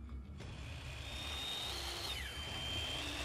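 Steady mechanical whirring like a floor sander from a robotic chameleon-like boss in The Deadly Tower of Monsters, a continuous loud drone with a high whine that sweeps downward partway through, no voices.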